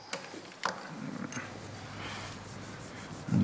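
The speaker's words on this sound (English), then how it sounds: "I'll clean this with a little alcohol first" A tool is scrubbed clean with alcohol before welding, a quiet, close rubbing and scraping with a few small knocks, faint and alone without talk.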